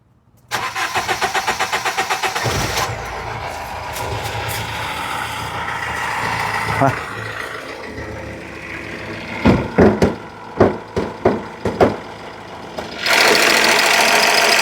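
A diesel engine turns over and starts, then runs with a rough, steady rumble, interrupted midway by a series of revs before settling into a loud idle.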